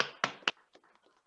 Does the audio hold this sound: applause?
yes